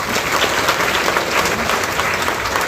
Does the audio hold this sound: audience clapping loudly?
yes